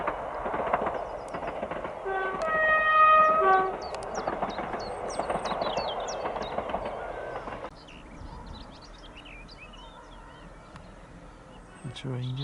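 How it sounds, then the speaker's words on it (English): A train passes in the countryside near Harlech, Wales, with a rolling rumble and a steady horn blast of a few seconds. The sound then settles into quieter outdoor ambience. "The train just going in."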